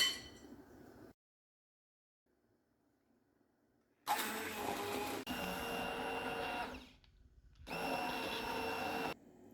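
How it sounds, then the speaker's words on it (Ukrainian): An immersion blender pureeing cooked pumpkin whirs loudly in two separate bursts, with a quiet pause before the first and a short break between them. "Готовий гарбуз подрібнюємо погружним блендером."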